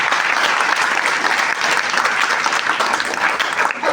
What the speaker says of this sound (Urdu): آپ پرزور تالیوں سے سر کو سلام دیجیے